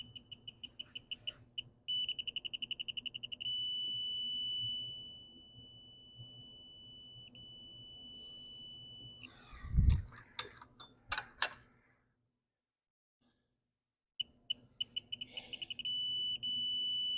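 Torque wrench set to 26 foot-pounds beeping while tightening the cylinder head bolts on a Honda GX340 engine, a steady high-pitched electronic tone with short clicks and a brief clatter partway through, close and fairly quiet, no talking.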